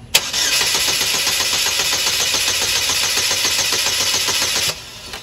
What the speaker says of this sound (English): We're going to crank this engine over and see what our spark looks like